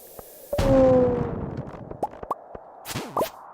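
A bomb goes off in Stardew Valley as one soft muffled burst, followed by small popping and plinking game sounds.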